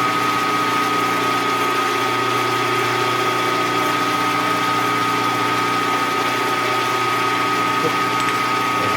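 A small lathe fitted with a center drill runs in high gear at a steady, loud pitch with a constant whine and hum, unchanging throughout and without any talking.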